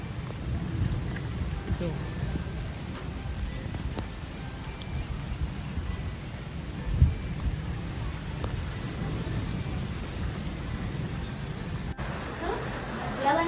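Heavy rain pours steadily outdoors in a Gujarati village during a storm, a dense continuous hiss and patter filling the whole scene, with one dull thump midway and a person speaking briefly over it.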